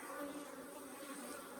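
Africanized hybrid honey bees, mostly drones with some workers, hum steadily at an open hive in southern Arizona, a dense continuous buzz close by with no voices.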